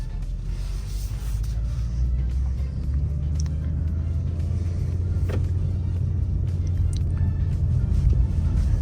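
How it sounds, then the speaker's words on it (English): A 2024 BMW M2 Coupe pulling away in first gear, heard as a steady, loud low engine rumble from inside the car, with faint clicks and only a little background noise. "We're gonna put it into first gear and we're gonna let off the clutch."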